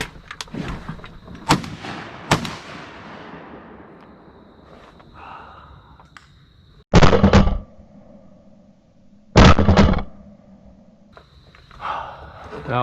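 Shotgun blasts while duck hunting over a Japanese millet pond in the evening, two loud booming shots several seconds apart among earlier fainter pops and quiet outdoor sounds, with a person talking.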